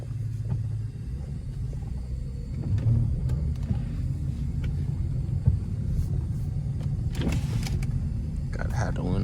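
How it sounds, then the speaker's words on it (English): Power windows on a car with a 345 Hemi lowering, a motor whine over the steady rumble of the idling engine, with faint talk in the cabin. "Gotta have the windows down a little bit."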